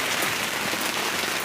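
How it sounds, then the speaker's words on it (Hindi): Heavy afternoon rain pours down in a dense, continuous hiss of drops on surfaces, close and loud throughout, with no talk. "अभी ना बहुत जोरों का बारिश हो रहा है इधर।"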